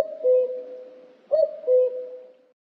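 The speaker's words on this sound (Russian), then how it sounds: "Кукушка." A common cuckoo calls in clear two-note hoots, a pair of soft, hollow tones repeated twice, close and clean against silence.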